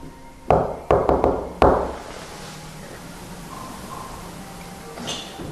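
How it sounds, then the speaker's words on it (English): Knocks sound inside a reputedly haunted lighthouse at Big Sur on the coast: about five sharp, hollow raps in an uneven cluster near the start, then quiet room tone with a faint stir near the end. "Can you return my knock?"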